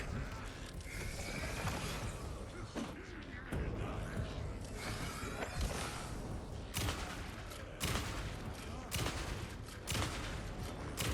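Shotgun blasts in the video game Alan Wake II, a string of sharp, loud booms spaced a second or two apart over a dense, busy game soundscape, with a voice talking at times.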